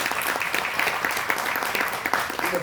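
An audience at a book presentation applauds steadily, a moderate wash of many hands clapping at once that holds at an even level throughout.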